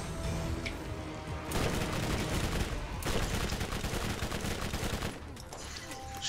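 Gunfire in the video game Borderlands comes in rapid, loud bursts of automatic shots, with dense volleys separated by short pauses.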